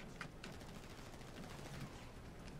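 Faint, distant bursts of gunfire crackle in Grand Theft Auto V Online, a few scattered sharp shots over a low, noisy background.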